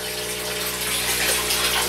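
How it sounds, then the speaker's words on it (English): A pump drives a strong flow of water into an aquaponics tank, a loud continuous gushing rush with a steady mechanical hum running beneath it. "That's a good bit of water coming through there."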